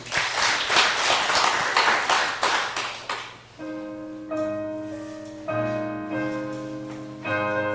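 A church congregation claps in loud rhythmic unison after a prayer, the beats slowing and fading after a few seconds, then giving way to sustained organ or keyboard chords.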